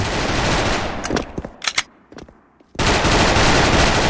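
A P90 firing in the online shooter Special Force, loud sustained automatic bursts close up, broken by a short pause with a few isolated shots before another dense burst resumes.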